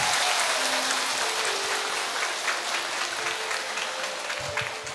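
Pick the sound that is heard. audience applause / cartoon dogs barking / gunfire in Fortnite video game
audience applause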